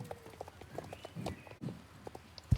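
Quick, light video game horse hoofbeats clip-clop in an uneven trotting rhythm, moderately close, with a soft thump near the end and no talking.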